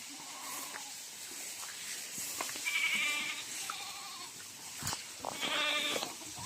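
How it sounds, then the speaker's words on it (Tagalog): A goat bleats several times in short, nasal calls against a steady outdoor background hiss on a rural farm in Batangas, Philippines, with other faint animal sounds nearby. "Nainitin na tong kambing mo."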